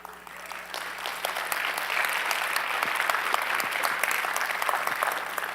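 A conference keynote audience breaks into sustained applause, a dense, even wash of many hands clapping that swells slightly and holds steady, with no voices over it.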